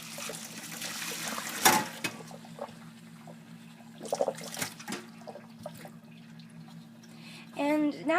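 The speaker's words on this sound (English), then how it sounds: "So now we are straining the beets." Cooked beets are strained while water drains and trickles in a soft, uneven stream with a few louder splashes, fairly close, and a voice speaks near the end.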